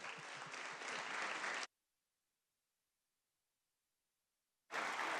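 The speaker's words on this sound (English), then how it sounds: "give another round of applause for a great man of Illinois, a great man of my community, Cyril Nichols." Applause in the Illinois legislature chamber, dense clapping from many hands that cuts off abruptly into silence and then resumes suddenly at the end.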